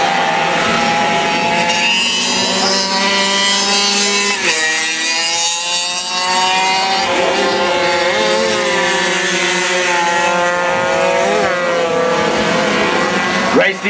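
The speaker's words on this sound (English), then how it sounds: "That bike not sounding too healthy at all." A racing motorcycle on a circuit revs hard and sounds rough and unhealthy, its loud, continuous engine whine rising and falling in pitch through gear changes, with a commentator talking over it.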